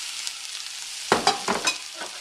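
Tomato mixture for chilaquiles hitting a hot pan with tortilla shells, a steady sizzle broken by several sharp clattering stirring bursts near the end, close and without talk.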